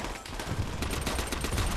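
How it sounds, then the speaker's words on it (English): Rapid gunfire in the Call of Duty: World at War video game, a dense rattle of machine-gun and rifle shots, loud and continuous over a short burst of battle. "I don't know who's shooting at me,"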